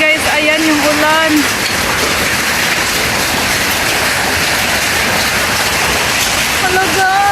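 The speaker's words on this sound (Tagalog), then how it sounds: "Oh, hail yan, hail." Hail and rain pound a roof during a storm in Gingin, Queensland, a dense, loud, continuous hiss and clatter with excited voices talking over it at the start and end.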